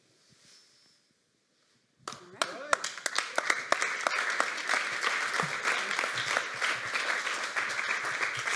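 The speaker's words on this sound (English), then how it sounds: "So, also like a big applause also for our investors" A conference audience at a Berlin–Miami fintech event bursts into applause after a quiet, near-silent lead-in, the clapping starting in sharp scattered claps and then building into steady dense applause that carries on to the end.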